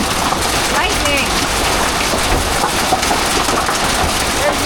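Heavy rain and hail pounding a motorhome roof during a storm, a dense, loud, unbroken roar of drumming impacts throughout, with no clear talk.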